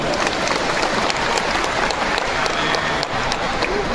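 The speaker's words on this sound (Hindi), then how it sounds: "मैं चाहता हूं कि पूरा मंच एक जोरदार ताली के साथ उनका सम्मान करे।" Loud, dense applause from a large crowd at a political rally in Ranchi, sustained and even throughout with no pauses.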